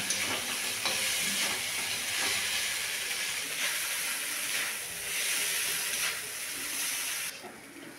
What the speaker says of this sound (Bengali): এবার চাউমিনগুলো ভালো করে ভেজে নেব